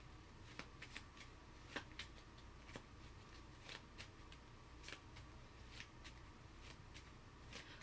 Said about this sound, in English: And y'all see me shuffling.